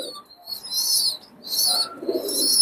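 Cobra teddy pigeons, bred by one keeper, give soft cooing calls, with bursts of wing flapping close by in a quiet room.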